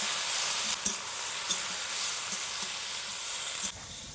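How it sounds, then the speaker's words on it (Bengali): Spinach cooking slowly over low heat in a pan for palong shak and paneer curry, a steady close sizzle with a couple of light clicks from stirring, then the hiss drops away near the end. "এবার আস্তে আস্তে জাল দেবো আর শাকটাকে রান্না করব।"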